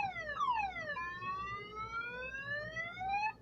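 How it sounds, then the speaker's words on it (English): A truck's car alarm blares through a neighbourhood, a loud electronic tone sweeping downward and then slowly rising again in one long continuous wail. "The car alarm starts blaring throughout the neighborhood,"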